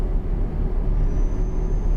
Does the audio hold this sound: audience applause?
no